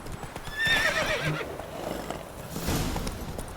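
Roach the horse in The Witcher 3 lets out a single high, wavering neigh early on, followed by soft hoof clops and rustling movement, moderately close against light ambient game sound.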